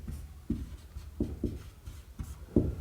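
Someone writes by hand, producing a handful of soft, dull taps and short strokes spaced irregularly, close and quiet.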